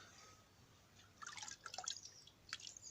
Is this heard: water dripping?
yes